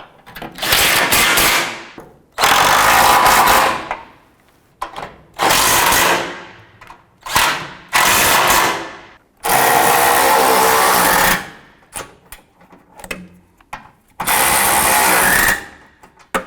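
A power tool whirs in repeated bursts of a few seconds each, tightening bumper impact absorber bolts on a 2009-2015 Honda Pilot, pausing between runs, with small clicks and handling noises in the gaps.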